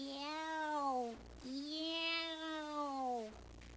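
A strange, cat-like cry of a fantasy bird, the bird of a thousand eyes, heard in a courtyard garden among cypress trees: two drawn-out, wavering meow-like wails, loud and close, with a short gap between them. It may be a voice imitating the cry.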